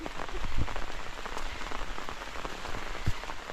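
Rain falls steadily on a village in rural Laos, a dense, even patter of drops striking nearby surfaces, with a few louder splats and no voices.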